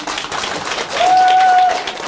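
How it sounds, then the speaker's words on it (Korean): An audience at a lecture bursts into applause, a brief dense patter of many hands that grows a little louder midway and stays fairly close. "박수를 치세요."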